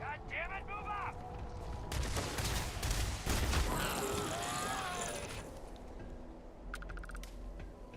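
Gunfire from a firefight in the game Starfield rattles as sustained bursts and fusillades over busy game sound effects and whooshes, moderately loud and continuous, with voices heard briefly.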